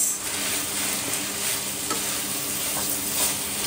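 A spoon stirs tuna pasta in a hot pan, with a steady wet scraping and clatter over a continuous close sizzle, and no talking.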